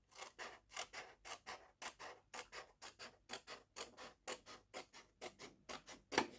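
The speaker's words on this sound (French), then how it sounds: "Je le découpe." Small scissors snip through a little piece of material in a steady run of about twenty crisp, close cuts, each a short rasping snap, with no talking.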